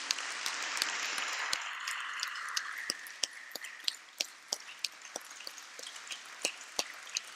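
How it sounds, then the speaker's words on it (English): Audience applause for Massimo Romano and the event team: a dense burst of clapping that thins within a few seconds into scattered, sharp individual claps. "I think they deserve a big applause for this event"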